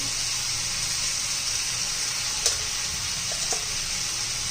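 Ridge gourd frying in oil in a pan as spices go in, a steady close sizzle throughout with a couple of brief stirring clicks, no talking.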